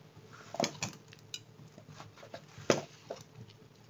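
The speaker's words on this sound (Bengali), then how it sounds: "দেখো লাউগুলো দিয়ে দিলাম।" Bottle gourd pieces dropped into half-cooked lentil dal in a pot, giving a few soft clinks and splashes against the pot, quiet and close, with no talking.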